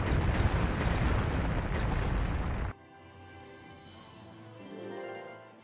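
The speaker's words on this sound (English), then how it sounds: "this cutscene right here where the lance is being destroyed to pieces." A lance is blown to pieces in a Valkyria Chronicles game cutscene, a loud, dense explosive roar that cuts off abruptly, followed by a quieter low rumble that swells and fades.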